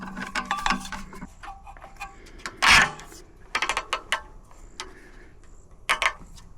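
Ratchet tightening bolts on an Outfitr heavy-duty 200 lb two-bike offroad rack, heard as scattered sharp mechanical clicks and short ticking bursts, with a louder clunk partway through and quiet gaps between.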